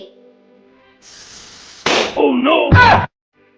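A sharp, loud burst as a bicycle tire pops from being overinflated, followed by excited shouting voices right after the bang.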